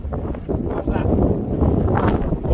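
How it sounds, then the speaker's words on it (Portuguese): Strong wind buffets a boat out on the water, a steady loud roar of gusts across the microphone with no clear voices. "Muito vento, vento é muito, muito. Muito forte."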